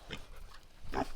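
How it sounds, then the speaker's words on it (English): Two short grunts from farm pigs, close and fairly soft, sit about a second apart over quiet background noise. "how you doing, pigs?"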